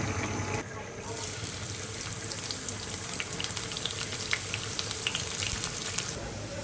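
Onions fry in oil in a pot, hissing steadily with a bright sizzle and light stirring, with a voice talking briefly over the cooking.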